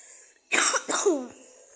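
A person aboard a bus coughs twice in quick succession, close and clear, followed by a brief throaty rasp, with quiet background hum.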